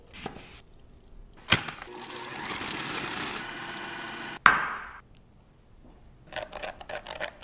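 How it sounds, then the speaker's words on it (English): A knife slices Yukon Gold potatoes thin on a cutting board, making a steady scraping, crunching run for a few seconds. Sharp taps mark the start and the end of the stroke, and quieter kitchen handling noises follow. "we're slicing these potatoes thin. We're using Yukon Gold"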